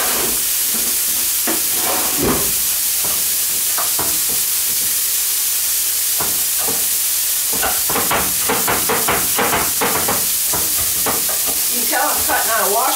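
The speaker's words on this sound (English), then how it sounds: "Chop this bacon up." Bacon being chopped on a cutting board that sits on a washboard and rocks, a string of sharp knife strikes over a constant loud hiss, coming in quick clusters toward the end.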